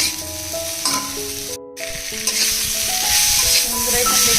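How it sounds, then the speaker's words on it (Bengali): Potatoes and raw cashews frying in a pan for a Bengali stinging catfish curry, a steady close sizzle with scraping stir sounds throughout and a brief cut of near silence partway through. "তো দেখছেন এখানে আমি ভালো করে প্রথমে কষে নেব এই আলু আর কাঁচা কাজুগুলোকে"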